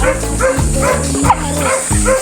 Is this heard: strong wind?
no